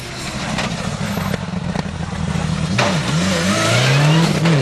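A Subaru rally car races along an asphalt stage, its engine roaring close and loud with revs rising and falling through gear changes as it passes.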